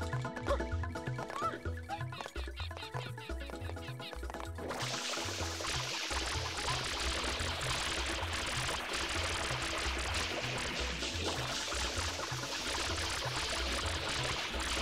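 In the Super Mario Sunshine video game, a steady hiss of spraying water starts abruptly partway through and continues without a break, over looping, bouncy game music.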